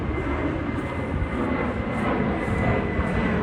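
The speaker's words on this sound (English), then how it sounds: "here the planes take off in the clouds" Airplanes take off overhead near the airport by Flushing Meadows Corona Park in New York City, making a continuous, loud jet-engine roar that holds steady with no talking.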